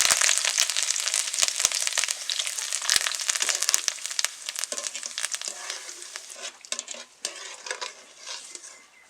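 Curry leaves fry in hot oil with a bright, crackling sizzle and occasional spoon scrapes, loud at first and gradually calming as the spattering settles.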